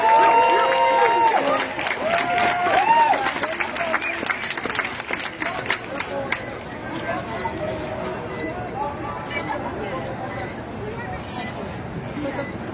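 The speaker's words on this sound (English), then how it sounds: "Please give him a round of applause." Crowd applause for a speaker from the GRT network after his interview, a loud sustained clapping at the start that tapers into quieter scattered claps over several seconds.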